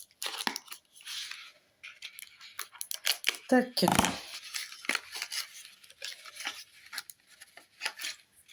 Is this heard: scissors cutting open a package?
yes